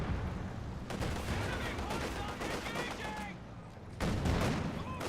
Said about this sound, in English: Mortar is shelling the Sturm Pioneers quite nicely